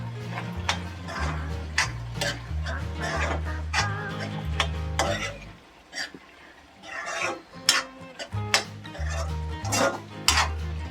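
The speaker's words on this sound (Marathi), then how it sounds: "ढवळून घेते." Utensil clinks against a pot while spicy potato curry is stirred at home, with repeated scraping taps in an irregular rhythm close by and a steady low hum beneath.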